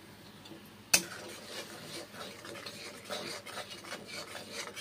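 Spices sauté in a pan with a sharp utensil knock at the start, then soft continuous scraping and rubbing of stirring, faint and close, with no voices.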